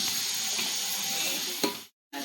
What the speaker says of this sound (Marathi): आपण शिजायला ठेवलेले साबुदाणे तर हे असे शिजत आहेत